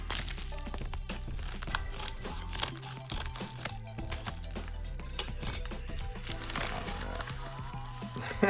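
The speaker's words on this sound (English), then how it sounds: "Oh boy, the paper towel, classic paper towel." Paper towel packing from a sports card mailer crinkles and crunches close up in a continuous busy rustle with sharp crackles, faint and without speech.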